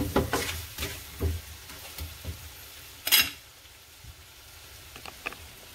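Mussel tinola soup simmering in a pot, with faint bubbling and soft pops under scattered clinks and knocks, including one louder scrape or clatter partway through.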